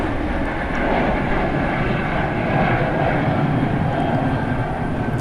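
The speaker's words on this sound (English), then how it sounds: "Air Seoul flight taking off." An Air Seoul airliner takes off from Gimpo International Airport, a continuous broad engine roar heard from a distance with no talk over it.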